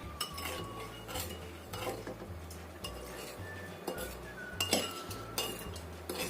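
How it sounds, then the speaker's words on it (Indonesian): A spoon stirs chicken seasoning of broth powder and sugar mixed with water in a bowl, giving repeated light metallic clinks and scrapes against the bowl in an irregular rhythm, close and fairly quiet. "Kita aduk sampai rata."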